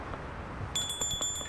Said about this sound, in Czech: To je zvonek nějaký?